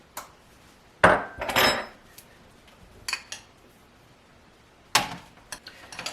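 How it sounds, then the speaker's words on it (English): Utensils scrape and clink in a bowl while mozzarella and Valentine cheese are mixed together, a few sharp separate clatters between quiet pauses, close and alone with no talking. "Now I'm going to mix my two cheeses left, my mozzarella cheese and my Valentine cheese."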